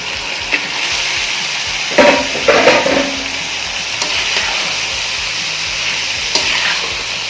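Minced keema with garam masala is stir-fried in a pan, a loud, close sizzle punctuated by scraping spoon strokes and the rustle of the meat being turned.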